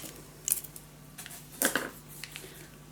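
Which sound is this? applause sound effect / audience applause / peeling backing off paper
peeling backing off paper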